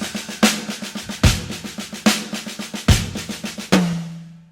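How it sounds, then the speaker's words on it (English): A solo drum kit pattern for a song featuring the high tom among rapid, evenly spaced strikes, with several heavier accents and a final ringing hit that decays. "High tom."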